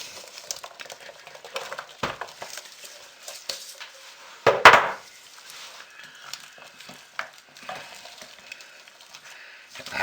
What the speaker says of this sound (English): I just like to stir and toss and turn and smash just to make sure everybody's in there and everybody's well coated.